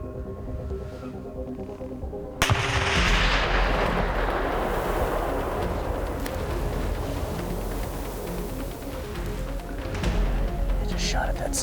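A single sharp rifle shot fired at a cinnamon black bear while hunting in Colorado cracks out loudly and rolls off into a long echoing rumble, with faint quiet talk before it.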